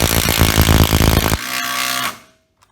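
A Makita TID18 18V cordless impact driver hammers a screw into wood, a loud rapid rattling burst that drops to a whirring spin before stopping abruptly, close up with no talk.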